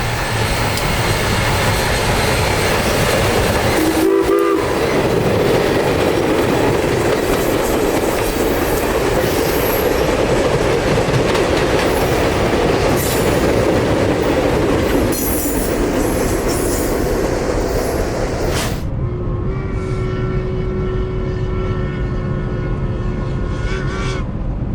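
U.S. Sugar Santa Express excursion train rolling past close by at the Dasher Road underpass, steady loud rumble and wheel noise throughout, with a horn blast near the end sounding as a sustained harmonic tone.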